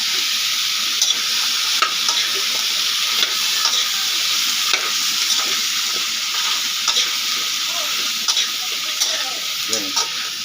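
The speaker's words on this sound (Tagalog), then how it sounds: "Gigisal natin ang bahagya." Ingredients are sautéed in a hot pan, a continuous close frying sizzle broken by intermittent clicks and scrapes of stirring, with faint speech in the background.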